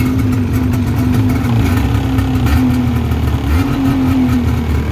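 A Ski-Doo two-stroke snowmobile engine revving close by, a loud steady buzzing drone with slight rises and dips in pitch throughout, alone without talk.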